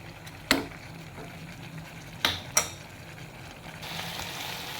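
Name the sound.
ginger garlic paste frying in a pan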